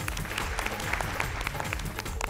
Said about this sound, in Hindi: प्रीति जी के लिए भी तालियां।